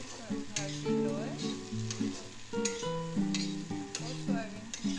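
Potatoes fry and get stirred in a pan in a home kitchen, a soft sizzle with stirring scrapes, overlaid by prominent tonal, music-like sounds.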